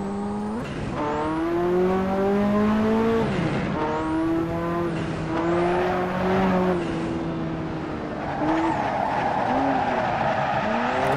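A Ferrari F40 drifts in the Assetto Corsa racing game, its engine rising and falling through repeated revs and shifts while tires squeal loudly and continuously through each slide, close up with no voices.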